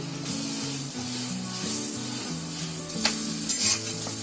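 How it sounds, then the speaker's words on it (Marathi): Steady sizzling of a chapati frying in butter and oil on a hot griddle, a continuous crackle with occasional scraping, no voices. "आता तव्यामध्ये थोडासा तेल घेतलाय 1 चमचा आणि त्याच्या 1 चमचा बटर टाकायचं. आता त्याच्यामध्ये आपली चपाती टाकायची."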